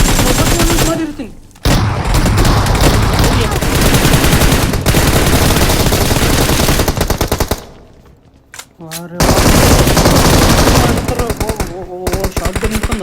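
Rapid, loud bursts of automatic gunfire in the battle royale game BGMI during a ranked Conqueror push, with a shotgun involved, nearly continuous and dense, pausing briefly about two-thirds through before the firing resumes.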